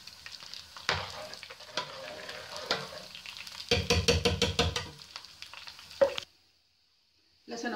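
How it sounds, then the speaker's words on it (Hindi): Garlic frying until brown in hot oil for dhaba-style masoor dal tadka: a steady sizzle with bursts of stirring and scraping in the pan, then a sudden drop to near silence before the sizzling returns. "लहसुन हमारा ब्राउन हो चुका है, अब इसमें हम जीरा ऐड करेंगे।"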